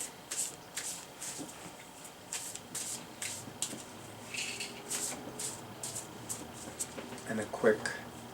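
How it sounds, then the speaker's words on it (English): Tarot cards with silver-gilded edges are given a quick shuffle close up, a run of soft, crisp riffling flicks and papery slides that come and go at a low level. "I'm going to give the cards a quick shuffle."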